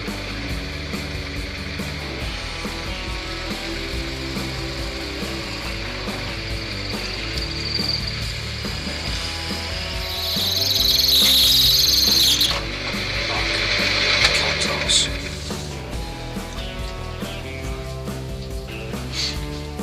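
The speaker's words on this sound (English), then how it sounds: "now all I need to do is just carefully push the drill through the pen." A drill bit pushed through a stained blue holly wood stylus pen blank spinning slowly on a lathe, a steady mechanical whir that rises to a louder grinding, whining stretch midway before settling back to the running hum.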